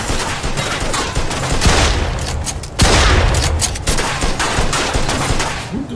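Sustained, loud gunfire rattles through a shootout in Mafia II, with rapid overlapping shots and heavier booming bursts that continue throughout without letting up.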